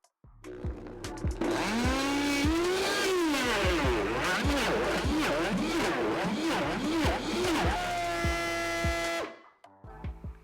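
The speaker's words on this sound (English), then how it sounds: "I'm going to put the blender on very high and use the temper" A loud, grinding high-powered blender motor roars at high speed for about nine seconds, its pitch rising and wavering as the load shifts, then cuts off abruptly.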